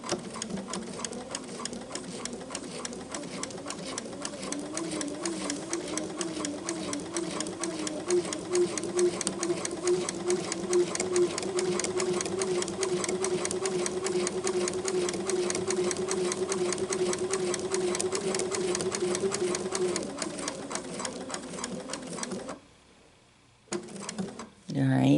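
A sewing machine stitches fabric for a bow tie quilt block, whirring steadily and evenly for about twenty seconds before it stops. A few brief mechanical clicks follow.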